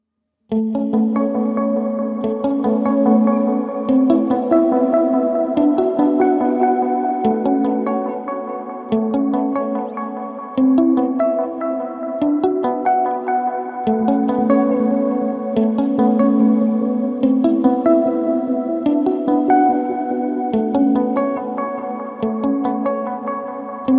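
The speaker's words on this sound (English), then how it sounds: "Let's set a reverb and delay and hear how they sound mapped to different spectrums." Sustained synth-like tones drenched in reverb and echoing delay, notes smearing and repeating into one another at a steady, full level throughout.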